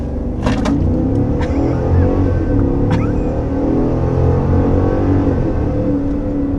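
A Cadillac Escalade Sport Platinum SUV accelerates hard to 60 mph, its engine drone heard steadily from inside the cabin, with a few brief clicks from the interior along the way.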